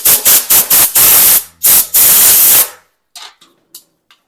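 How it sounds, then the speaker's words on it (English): Short, loud hissing blasts of compressed air are blown onto the fuel tank vent of a Mitsubishi Fuso FG truck: several quick bursts, two longer sustained ones, then silence broken by a few faint taps. "Another quick blow."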